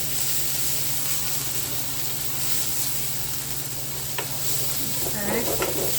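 Onions browning in a pan for a simple pantry dinner, giving a steady close sizzle and hiss throughout, with faint stirring scrapes near the end.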